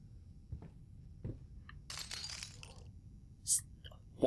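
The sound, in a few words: footsteps crunching on broken glass in Layers of Fear video game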